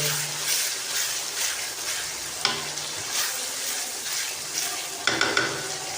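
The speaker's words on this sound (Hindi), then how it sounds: "2 मिनट तक हाई फ्लेम के ऊपर भुनाई करेंगे" Chicken pieces fry on a high flame in a handi, giving a steady close sizzle with occasional scrapes and clicks of stirring, no talking.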